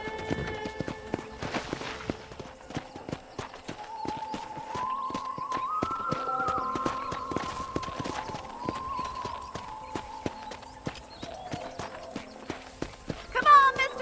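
Rhythmic hoofbeats clop steadily as a horse trots along in Red Dead Redemption, with a faint tonal music line underneath and a brief louder burst at the end.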